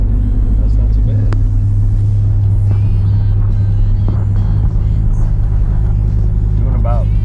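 A Jeep SRT running on E85 fuel cruising along, a loud steady low engine and road drone inside the cabin with a voice talking over it throughout.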